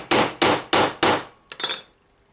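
Four sharp metal hammer strikes flattening a rivet on armour, in an even rhythm, close and loud, followed by a couple of lighter, quicker taps.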